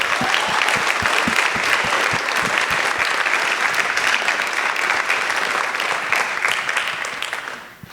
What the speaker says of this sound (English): can we stop and give our panelists a round of applause?